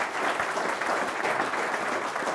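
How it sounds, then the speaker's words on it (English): Brief burst of audience applause for Royce at a talk to business leaders, dense and even clapping from a room of people. "Give Royce a round of applause, please"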